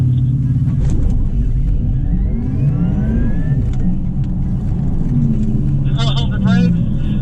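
A Porsche engine roars and revs under loud, excited talk at the Porsche Experience Center, with a rising whine as it accelerates hard in a launch start.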